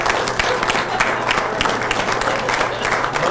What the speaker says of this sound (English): So to all of you mothers, allow us to applaud you today.